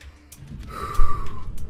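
Unsteady breathing in the video game Danganronpa V3, a short sharp gasp rising out of a low ambient hum, close and fairly loud, with no one talking.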